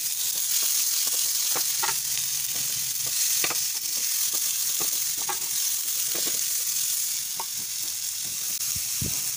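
Chopped onion and tomato sautéing in a pan for mattar paneer, a steady close sizzle with intermittent scraping and stirring clicks throughout.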